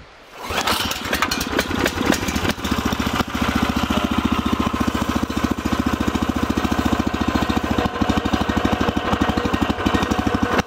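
A Jansen RD-300 Pro mini dumper's small engine catches at about half throttle and settles into a loud, steady, close-up chugging run that continues without pause.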